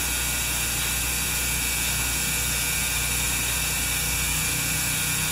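A Honda engine-driven air compressor mounted on a wheelbarrow runs close by with a loud, steady mechanical drone and whirring hum, unbroken throughout.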